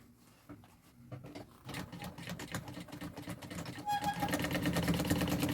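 Sewing machine stitching the boxed corner of an executive bag's lining, a steady mechanical whir of rapid needle strokes that speeds up and grows louder toward the end, with no talking.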